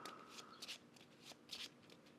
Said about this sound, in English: And we shuffle this up.